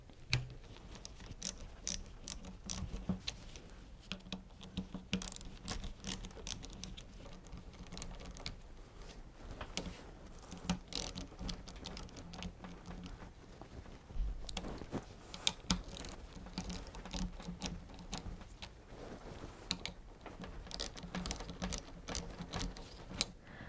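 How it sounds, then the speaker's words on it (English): Bolts come off a Karcher pressure washer pump as a faint, steady series of small ratcheting clicks and light metallic taps, repeating in irregular bursts with no talking. "take turns to unscrew each bolt little by little so that you gradually loosen them all together"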